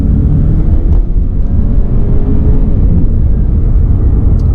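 A 2018 Jaguar XE in dynamic mode, holding its gear, pulls through turbo lag with a loud, steady low engine rumble that stays dense and even throughout.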